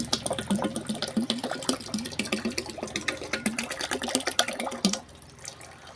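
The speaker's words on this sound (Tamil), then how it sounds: "புங்கெண்ணெய் ஊற்றிட்டோம்." Pongamia oil pours steadily into a garlic mixture for a herbal oil preparation, a continuous splashing liquid trickle lasting about five seconds before stopping abruptly.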